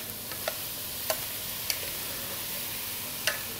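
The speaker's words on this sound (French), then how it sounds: "Je vais maintenant incorporer les courgettes." Sliced zucchini stirred into onions sweating in a pan, a soft steady sizzle punctuated by four sharp utensil taps against the pan, close and alone.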